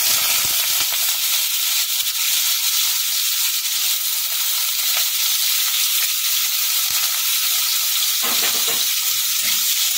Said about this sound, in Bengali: কড়াইতে আমি তেল দিয়ে দিয়েছি, তেল গরম হয়ে গেছে। এখন আমি আলুগুলোতে লবণ মাখিয়ে রেখেছিলাম, আলুটা আগে ছেড়ে দেব।